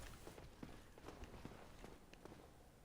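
Footsteps of a castle resident in Dark Souls: Remastered, a quiet run of soft, irregular steps over a low ambient rumble, with no voices.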